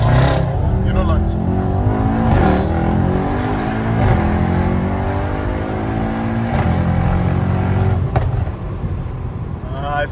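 A tuned Mercedes-Benz E63 S engine revs loudly and close, its pitch rising and falling over several seconds, with sharp exhaust pops and crackles scattered through. People talk over the engine.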